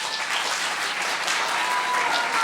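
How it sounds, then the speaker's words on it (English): An audience claps steadily throughout, a dense even wash of many hands, moderately loud with no voices standing out. "When he was finished, the audience applauded."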